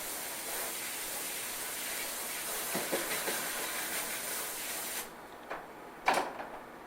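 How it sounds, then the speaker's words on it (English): A brush is rinsed under running water, a steady hissing spray that cuts off partway through, followed by a few brief knocks and splashes. "rinse my brush out"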